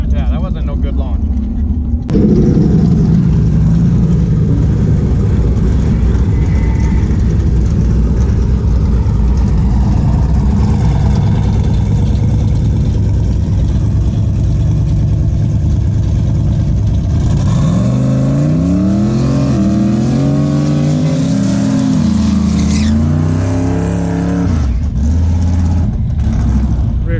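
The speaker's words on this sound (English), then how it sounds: "Rear tire is hopping a little bit in the burnout there." Drag car doing a burnout at a drag strip, engine roaring loud and steady at high revs with a hopping rear tire, then revving in rising sweeps near the end; people talk over it.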